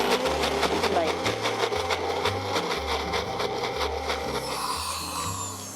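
A blender purees ginger and garlic into a fine paste for kimchi, a continuous loud whirring motor with pulsing rhythmic churning, close, while a person talks over it.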